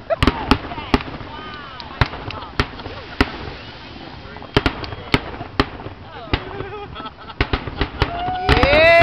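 Fireworks burst over Revere Beach during a sand sculpting festival, sharp cracks and pops going off irregularly, some close and loud, with whistling tails and spectators talking and cheering in between.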